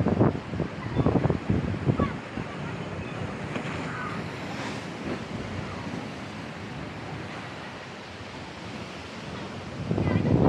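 Ocean swell washes in at Rawai Beach, Phuket, as a continuous broad surf roar, with wind buffeting the microphone and faint indistinct voices in the background.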